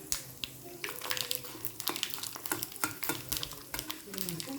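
Mustard seeds, fenugreek and dried red chillies frying in hot oil for a Telugu roti pachadi, with crackling pops and spoon stirring against the pan, steady and close, a voice heard briefly.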